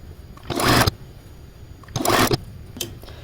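A sewing machine joins quilt pieces in three quick bursts of whirring stitching, the last shortest, close and clear with quiet gaps between.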